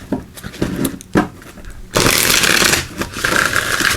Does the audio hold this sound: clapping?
no